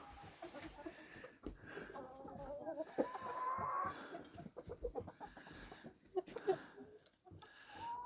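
Chickens cluck softly and steadily outdoors in snow in winter countryside amid a rustling background, with occasional sharper squawks.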